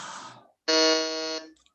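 At a school Japan quiz contest, a quiz buzzer sounds once after a brief burst of noise, giving a single loud, steady electronic tone that lasts under a second.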